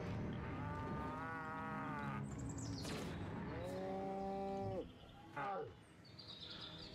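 A cow in the Destroy All Humans demo remake lows twice in long, drawn-out moos, close and clear, with faint bird chirps in the background.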